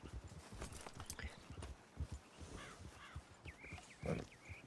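Horse hooves clip-clop at a steady walking rhythm in Red Dead Online, the near thuds mixed with several crows cawing in the background.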